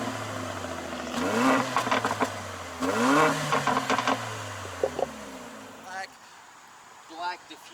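A Mercedes GLA45 AMG engine and exhaust blip and rev in short bursts with a growling note, at moderate distance, then fade to quiet with faint sounds.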